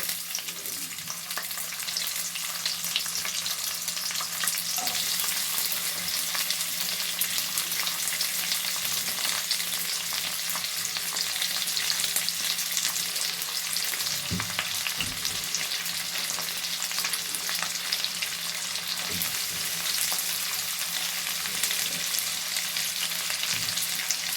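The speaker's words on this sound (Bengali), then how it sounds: "উচ্ছেটাকে একটু আগে ভালো করে ভেজে নেব। উচ্ছেগুলো দিয়ে দিচ্ছি।" Bitter gourd pieces fry in plenty of hot oil with a steady, dense sizzle throughout, broken by a few soft scrapes and clinks of stirring near the middle; no voices.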